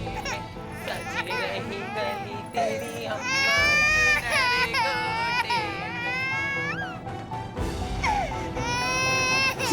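An infant cries loudly and continuously with rising, wailing sobs and brief catches of breath, close and dominant over a busy household background.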